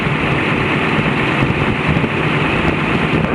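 The boat engine of the African Queen, its stuck number 5 cylinder exhaust valve repaired and set on choke, runs fast with a steady, loud, dense burbling rumble and no talking.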